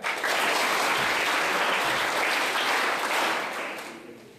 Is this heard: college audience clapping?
yes